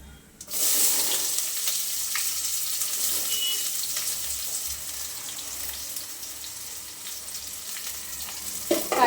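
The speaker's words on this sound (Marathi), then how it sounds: "कांदा आपल्याला गुलाबी रंग रंगावर छान फ्राय करून घ्यायचा" Chopped onion sizzles steadily in hot oil in a pan, a bright continuous crackle that starts abruptly and holds at an even level, with a faint clink near the end.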